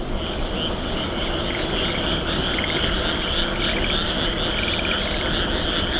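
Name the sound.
frogs croaking loudly at night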